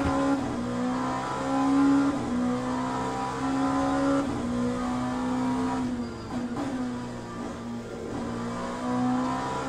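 LMP2 prototype race car in Le Mans Ultimate, its engine droning loud and steady with rising and falling revs through gear changes, held close and continuous throughout.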